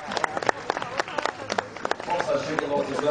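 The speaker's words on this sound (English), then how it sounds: "Give her a huge round of applause." An audience claps for a white tiger's jump at a tiger show, with scattered, uneven claps rising into a fuller patter while a voice talks over it.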